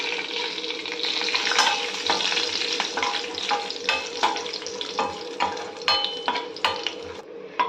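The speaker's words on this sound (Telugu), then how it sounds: "కాజు, బాదం 2 మినిట్స్ రోస్ట్ అయ్యాక మనం చూపిస్తున్న మసాలాలన్నీ వేసుకోవాలండి." Cashews, almonds and spices fry in hot oil with a continuous sizzle, while a spoon stirs and scrapes the pan in irregular knocks and clinks, close and clear.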